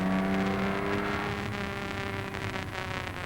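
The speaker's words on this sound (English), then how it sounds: "Moving off. Accelerating hard up to Dunlop Bridge." Mike Hawthorn's race car pulling away hard from the start at Le Mans in 1956, a loud, continuous engine roar with rising tones as it accelerates, heard from on board.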